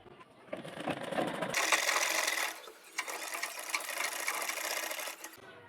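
A sewing machine runs a steady, close stitching whir for several seconds while sewing along a folded side edge of a kameez to attach thin piping, with a brief start and a short dip midway.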